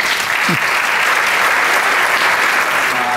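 Concert audience in a theatre applauding the town council at a Christmas concert, dense steady clapping throughout, loud and close, with a brief voice sound near the start.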